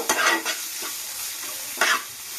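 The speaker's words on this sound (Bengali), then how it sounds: "একটু লঙ্কার গুঁড়ো একটু হলুদের গুঁড়ো আর একটু একটু লঙ্কার গুঁড়ো দিয়ে এটাকে ভালো করে আবার কষিয়ে নেব" Fish chop masala with chili and turmeric powder being stirred and sautéed in a pan, steady sizzling broken by a few scraping stir strokes near the start and again toward the end, close and moderately loud.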